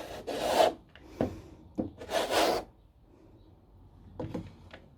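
Paint being scraped across a canvas for a multi-scrape painting, several rough rasping strokes of varying length with pauses between them, close and fairly quiet.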